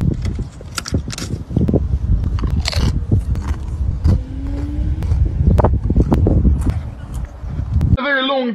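Someone bites and chews a very long chocolate bar up close, with crackly snaps and munching over a noisy outdoor background, and a voice murmurs in between.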